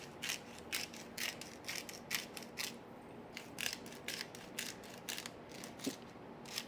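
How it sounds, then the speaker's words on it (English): A handheld pepper mill grinds black pepper in a home kitchen, a steady series of close, quiet ratcheting crunches, roughly two per second, with no talking. "Whether it's salt or pepper, the grinding just is so satisfying."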